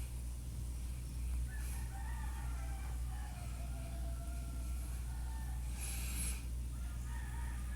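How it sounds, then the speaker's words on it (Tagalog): Caged layer chickens cluck and call in a low murmur, with a few louder crowing calls and squawks rising out of the flock, over a constant background hum from the farm setting, with no talking. "Ito na po yung mga layer chickens natin na nakalagay na po sila sa mga cages po nila."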